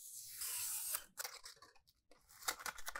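A small block being cut for a miniature tabletop gaming boat: a few short, dry snipping and crunching bursts close by, separated by brief pauses.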